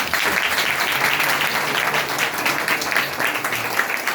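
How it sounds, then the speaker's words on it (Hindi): A seated audience gives a guest on stage a sustained, even round of clapping, close and continuous, with no speech over it. "कन्हैया जी के लिए एक बार तालियां हो जाए"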